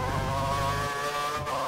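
A race car engine in a racing video game at the Chinese GP holds a steady high, buzzing drone with layered harmonics. The pitch shifts slightly as it carries on, continuous and fairly close throughout.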